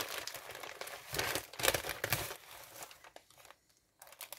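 Paper envelope of received mail being torn open and handled, with steady crinkling and tearing bursts that fade near the end, heard close up with no talk.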